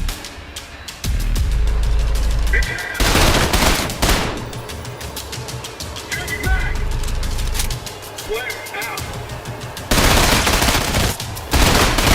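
Rapid bursts of automatic gunfire from Trepang2, a first-person shooter game, with broad loud volleys at several moments over a continuous bed of game noise and occasional talk.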